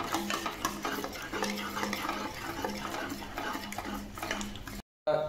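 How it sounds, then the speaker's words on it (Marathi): Egg is stirred into a spice mixture in a pan for anda bhurji, with soft scraping and clinking of a utensil over a faint kitchen hum before a brief cut to silence near the end. "आता व्यवस्थित संपूर्ण आपल्याला हे अंडे आपल्या या मसाल्याच्या मिक्सचरमध्ये व्यवस्थित मिक्स करून घ्यायचे आहे"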